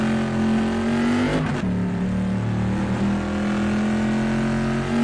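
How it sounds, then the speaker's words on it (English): A racing-game engine, sounding like a big Corvette race car, holds a steady loud drone, and a brief burst of exhaust pops and bangs cuts in midway. "fantastic when you get on the downshifts and the engine and the exhaust pops and bangs its way into the corner and then roars on the exit."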